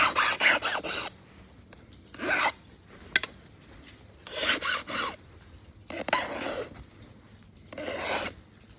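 Knapped flint dagger being sharpened by hand, heard as close, dry rasping strokes in five separate bursts with short quiet gaps between them.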